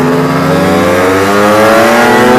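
A car engine roars loud and close as it accelerates hard from a rolling start at about 45 km/h in second gear, pitch climbing steadily with no gear change.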